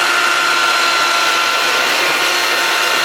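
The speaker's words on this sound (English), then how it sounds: "What I'm going to do is just hit the sander very quickly." Power sander run briefly along the edges of a wooden cornhole board, a loud, steady high-pitched whir that stays constant throughout, with no pauses.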